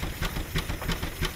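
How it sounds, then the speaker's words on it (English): A 1912 Baker steam engine runs with faint, rhythmic chuffs of steam repeating about three times a second, soft and somewhat distant over a low background hum. "This is a 1912 Baker steam engine."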